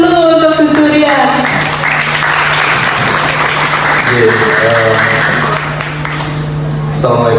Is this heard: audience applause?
yes